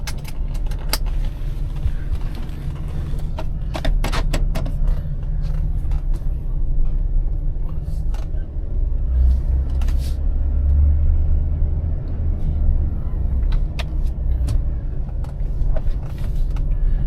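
A 2012 GMC Savana van driving on a test drive, steady low road rumble and engine drone inside the cab with scattered clicks, rattles and jangling keys, and some speech.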